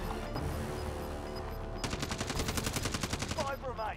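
Video game gunfire: a steady background din gives way to a rapid automatic burst of repeated shots that runs for about two seconds, fairly loud and close.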